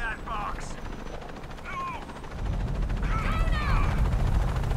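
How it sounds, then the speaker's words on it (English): A helicopter in the video game Shadow of the Tomb Raider thumps and drones, growing louder partway through, with gunfire-like bursts and brief voiced game sounds over it. "Just gotta get to the chopper."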